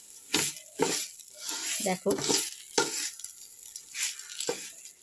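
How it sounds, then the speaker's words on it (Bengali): Rice frying in ghee with bay leaf and small cardamom, stirred in a pan with scraping strokes and soft sizzle in irregular bursts, under a brief spoken word. "এখন চালগুলোকে একটুখানি ভাজা ভাজা করে নেব, ঘি দিয়ে, তেজপাতা দিয়ে আর ছোটো এলাচ দিয়ে"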